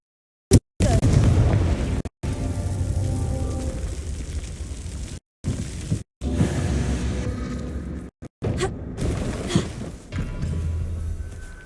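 Repeated blasting-spell explosions from the Hogwarts Legacy video game go off as a series of loud booming bursts with sharp onsets, separated by brief silent gaps, with rumbling low debris tails and no talking.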